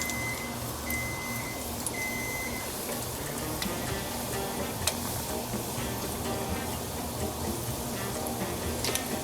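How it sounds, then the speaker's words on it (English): Two mac and cheese balls frying in hot oil in a pan on medium-high heat, a steady dense sizzle and crackle close up, with no talking. "Just keep frying this one."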